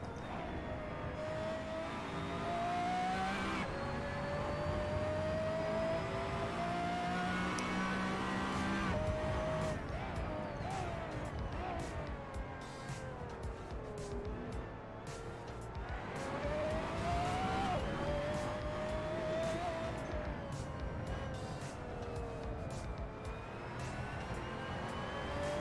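Race car engines in an iRacing race roar steadily, rising and falling in pitch through gear changes. Occasional tire squeal and other cars close by can be heard.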